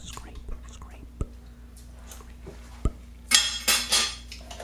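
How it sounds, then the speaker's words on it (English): Spoon scraping the sides of a container of high-protein anabolic ice cream, a few sharp isolated clicks and then a burst of loud rasping scrapes near the end, close up with faint whispering. "Keep on scraping."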